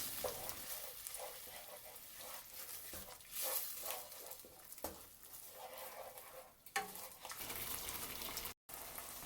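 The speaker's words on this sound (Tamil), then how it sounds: "இப்போ குழம்பு நல்லா கொதிச்சுட்டு இருக்கு." Egg kurma curry (muttai kuzhambu) bubbling in a pan, giving a steady close sizzle and crackle with small bursts throughout, no voices.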